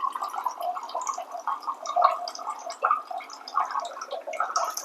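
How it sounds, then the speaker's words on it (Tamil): Hot water at about 99 degrees pours from a Zero B Ignite RO dispenser into a cup, a close, bubbly gurgling trickle that flows unevenly for several seconds. "இப்போ ஹாட் வாட்டர் பிடிக்கிறோம்"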